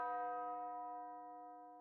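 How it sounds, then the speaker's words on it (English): A single tubular bell struck once in a music production, ringing with a bright metallic tone and a long, slowly fading sustain, alone and fairly quiet. "Then I added a tubular bell."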